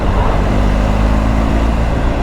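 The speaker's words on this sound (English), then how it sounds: "I love the Boxer engine, how torquey it is." BMW 1250GSA motorcycle from 2024 with a torquey boxer engine, ridden at moderate speed, giving a steady, continuous low engine drone mixed with wind and road rumble, with no talking.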